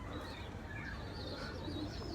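Pigeons (breeders) in a backyard loft coo softly and continuously over a low ambient hum, with a faint chirp mixed in; no one speaks.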